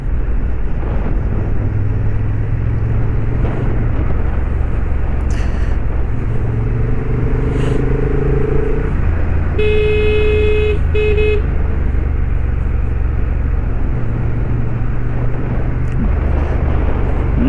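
A Honda CB750 motorcycle rides a mountain road in Himachal Pradesh with a steady, loud engine drone and wind rumble throughout, and a short horn toot partway through.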